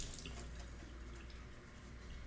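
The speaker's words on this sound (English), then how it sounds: "now I'm going to wash my hands off again" Steady running tap water streams over hands being washed at a kitchen sink while making homemade pasta, a continuous close splash with faint dripping and no talk.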